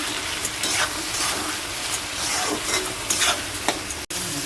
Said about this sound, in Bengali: দেখুন আমার পেঁয়াজটা কিন্তু ভাজা হয়ে গেছে।